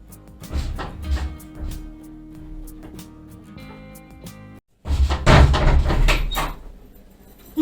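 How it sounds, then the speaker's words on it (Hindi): Indoors, a door is shut amid a clatter of knocks and handling thumps, then a brief silence before a louder burst of bangs and rattles as it closes. "दरवाजा बंद कर लेना।"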